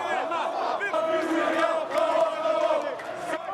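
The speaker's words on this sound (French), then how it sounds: "la foule entonnera en chœur des chants contestataires" Protest crowd in Algeria chanting in chorus: a dense mass of voices rising and falling in rhythmic, sustained chants, loud and continuous across the whole stretch.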